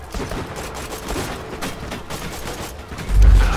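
Rapid gunfire in the video game Borderlands 2, a dense fusillade of sharp cracking shots rattling without a break, with a heavier booming burst near the end.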